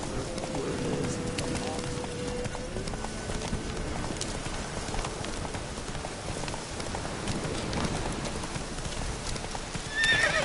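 Hooves clip-clop in a steady galloping rhythm as a horse runs in The Witcher 3 video game, with a neigh and soft rain-like background noise and some speech mixed in.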